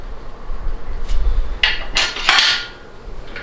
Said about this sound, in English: So now we'll go ahead and torque down all the bolts.